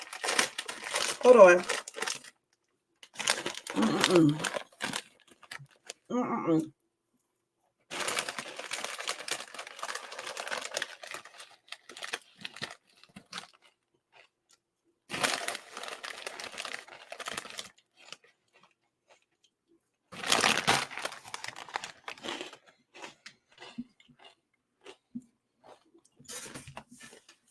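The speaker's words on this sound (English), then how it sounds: "y'all probably hear me chewing right now" Fritos corn chips are crunched and chewed and the snack bag crinkles, heard in loud bursts separated by quiet gaps, with brief talk in between.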